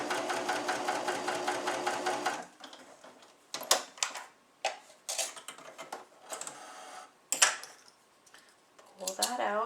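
A sewing machine runs steadily for about two and a half seconds, hemming a swimsuit over a seam, then stops; a voice talks over scattered handling clicks afterward.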